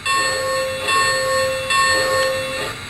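Bell sound effect of a Lionel LionChief Plus Nickel Plate Road 767 model steam locomotive with Bluetooth, a steady ringing repeated in regular strokes over a hissing background, close and alone.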